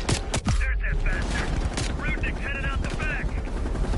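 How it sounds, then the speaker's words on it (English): Rapid gunfire in the video game Call of Duty Black Ops Cold War, sharp shots and automatic bursts cracking close and loud amid game effects and intermittent voices. "There's nobody in the room with me, but I'm getting shot at."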